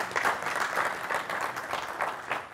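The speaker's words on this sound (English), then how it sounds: "Good clap for them." Audience applause after a welcome at an NYU dental lecture on peri-implantitis, a steady patter of many hands clapping in a hall for a couple of seconds, fairly soft and without talk.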